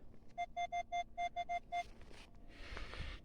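A metal detector sounds a quick series of about eight short, evenly spaced beeps, marking a shallow target during an outdoor coin hunt. A soft rustling scrape follows, and the sound is fairly faint with no speech.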